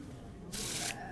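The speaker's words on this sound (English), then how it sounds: "That's the easiest way for me to shuffle a deck of cards, really." A deck of cards shuffled by hand during a close-up magic performance, one brief soft riffling burst of about half a second over quiet room noise.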